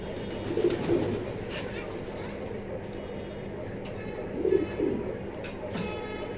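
Fancy pigeons of a foreign bloodline in a loft coo twice, with a short soft burst near the start and another a few seconds later, over a constant low background hum.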